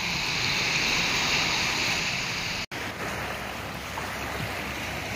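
Sea waves at a shipyard in Cebu, a steady broad wash of surf and water noise with wind, continuous and fairly loud, with a brief dropout midway.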